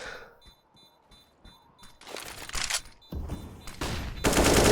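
Rifle fire in Counter-Strike on the Nuke map starts as faint, spaced shots over a low hum and builds into dense, loud sprays of rapid gunfire that grow heavier toward the end.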